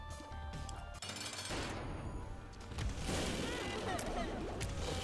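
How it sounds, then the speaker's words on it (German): Explosions and chaotic combat effects in The Binding of Isaac: Rebirth, a busy, loud wash of booms and crackling bursts that swells toward the end, with talking mixed underneath. "Wie erstmal hier alles explodiert und ich Schaden nehme"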